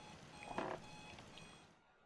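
A faint electronic alarm clock beeps in a room, a few short tonal beeps in a brief burst before fading out, with no talking.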